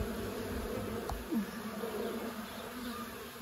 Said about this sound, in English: These bees are trying to eat the honey from my hands